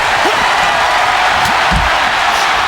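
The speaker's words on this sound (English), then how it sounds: "Just listen to this crowd. Every one of them is on their feet." A wrestling crowd in the WWE 2K26 video game roars as a dense, loud, unbroken wash of cheering, with a few brief thuds and bumps beneath it.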